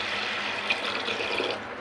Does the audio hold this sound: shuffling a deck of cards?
no